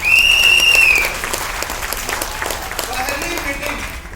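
Audience clapping in honour of Dr. Viplav Bhadra at a business success-story gathering in Deoria, Uttar Pradesh, continuous applause under a loud whistle-like tone at the start, fading slightly toward the end.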